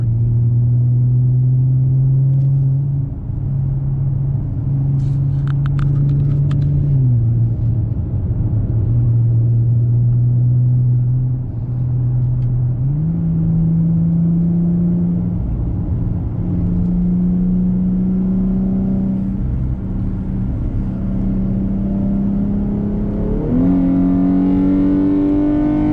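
A Chrysler 300 engine pulls hard on a highway, a loud close drone climbing in pitch through each gear, dropping briefly at shifts around several points, with steady road rumble underneath and no talk.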